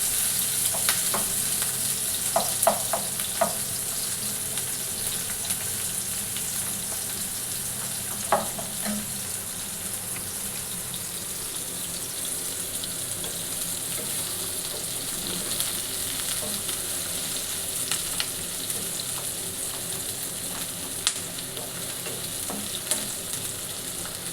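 Paneer curry ingredients sizzle in a pan, a soft, even hiss lasting throughout, with a few faint clicks of stirring early on and no voices.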